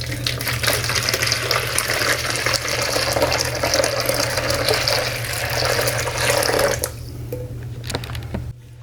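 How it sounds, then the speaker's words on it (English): A pot of water poured into a sitz bath, a steady close splashing gush lasting several seconds before it cuts off and a fainter trickle follows. "I threw the water in my sitz bath"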